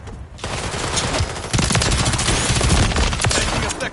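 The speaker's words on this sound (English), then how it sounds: "Taking effective fire." Gunfire in Call of Duty Modern Warfare, an unbroken, loud barrage of automatic shots and overlapping volleys that starts abruptly and stays intense throughout.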